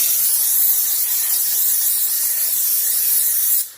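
A steam cleaner hisses steadily while steaming a pet leopard gecko's cage and accessories, one continuous close, loud jet of steam that runs nearly unbroken for several seconds before cutting off abruptly at the end.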